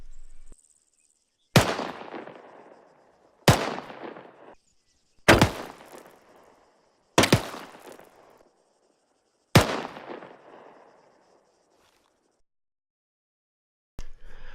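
Five single rifle shots in a marksmanship setting ring out at spaced intervals of roughly two seconds, each a loud, sharp crack with a short decaying echo, and a sixth begins at the very end.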